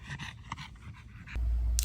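A dog pants quickly in short, soft breaths close to the microphone, then a low rumble of handling or wind noise takes over near the end.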